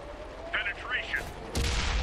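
A tank cannon fires in World of Tanks on Xbox 360 from a Chi-Nu Kai, one heavy blast arriving after some whirring and mechanical whines, then a lingering boom.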